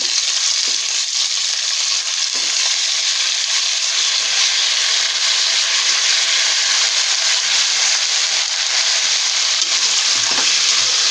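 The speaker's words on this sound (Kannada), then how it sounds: "ಕ್ಯಾಪ್ಸಿಕಮ್ಮು, ಬದನೆಕಾಯಿ, ಈರುಳ್ಳಿ ಎಲ್ಲ ಒಟ್ಟಿಗೆ ಫ್ರೈ ಆಗಬೇಕು" Capsicum, brinjal and onion fry together in a pan for a hotel-style vangibath, making a loud, continuous close-up sizzle with occasional scraping stirs, and no talking throughout.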